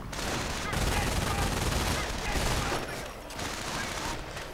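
Heavy gunfire in a World War II real-time strategy game battle, with engineers, riflemen and LMG-armed Grenadiers trading fire: dense, continuous crackling volleys and bursts that stay loud throughout.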